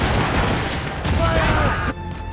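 Ship cannons firing in Assassin's Creed Rogue, a dense, loud barrage of booming volleys that rumble continuously, then cut off abruptly near the end.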